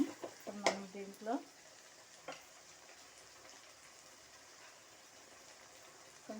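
Tomatoes frying in a pan with salt and curry leaves, giving a steady low sizzle that runs throughout, with a few louder clattering stirs near the start.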